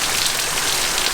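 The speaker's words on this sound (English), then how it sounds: "we get a whole bunch of rain coming in." Rain coming down near a cottage in Witchcliffe, Western Australia, a steady, loud, dense hiss of drops on surfaces with no gaps and no voices.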